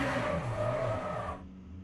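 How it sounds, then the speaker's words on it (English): A rally car in the racing game Le Mans Ultimate doing burnouts and donuts, its engine droning loud and steady with tire-squeal tones, then cutting off sharply near the end and leaving a fainter idle. "Burnouts, donuts, yep."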